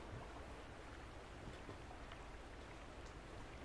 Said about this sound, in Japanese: なんか暗いところで水の音がするのって怖いね。